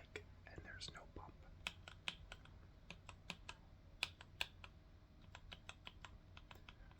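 Quiet typing on a mechanical keyboard with linear red switches, soft irregular keystroke taps in quick bursts and pauses, with faint whispering early on.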